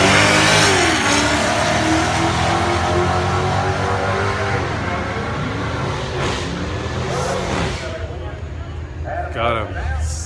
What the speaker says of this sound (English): This Mercedes is extremely loud